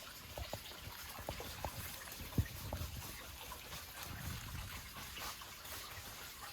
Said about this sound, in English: The stream right here.